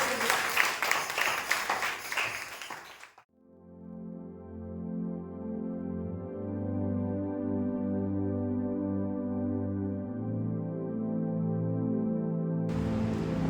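A church congregation at a Sunday praise and worship service breaks into loud, dense applause for about three seconds. Sustained, steady keyboard or organ chords then take over and carry through to the end.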